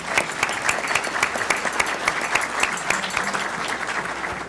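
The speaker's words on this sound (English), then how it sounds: "A big round of applause for" Steady applause from an audience at a public forum on pension reform, dense and continuous with a few sharper individual claps standing out, moderately close and without speech.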